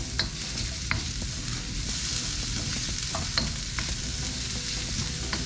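Red onion fries and crackles in a pan while being stirred, a steady sizzle broken by sharp scraping clicks from the utensil, with no voices.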